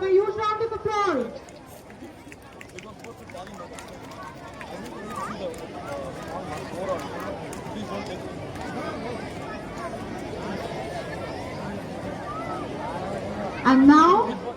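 An audience at a school Independence Day celebration claps for the class second C prize winners, a steady, fairly distant patter of applause with crowd murmur under it and a voice over a loudspeaker at the start and end.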